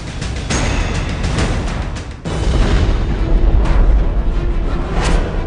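Loud artillery shelling explosions along the Line of Control in the Nowshera sector, Jammu: booms and rumbling blasts roll out one after another, heavy and close, with a sharp break partway through before the rumbling resumes.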